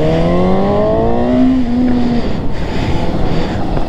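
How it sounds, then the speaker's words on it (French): A Suzuki GSX-S 750 motorcycle engine revs up in a sharp, rising burst, the pitch climbing quickly then settling into a rough, loud growl that continues nearby, with no voices over it. "Première accélération! Ça pète, mais ça fait pas autant de bruit que ce que je pensais."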